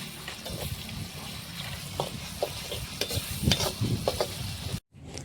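Onion, green chili and chicken mixture stirred in a hot pan, a steady sizzle with scraping spoon strokes that grow more pronounced near the end before a sudden cut to silence.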